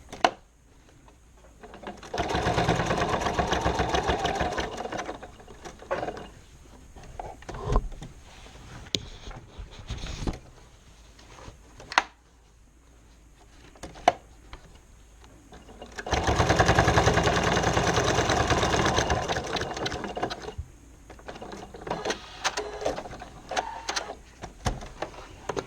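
Two separate bursts of sewing machine stitching sound up close as a shoulder bag strap is sewn, with quieter clicks, handling noises and brief bits of stitching in between.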